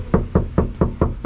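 Six evenly spaced knocks land on the untreated back door of a Land Rover Defender, each a short, tinny metal clank, close and alone.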